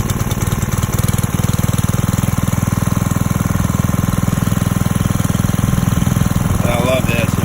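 The small engine of a Gold Fox 1 1/2-inch water pump idles with a loud, steady, rapid chugging putter, close by, with voices talking over it near the end.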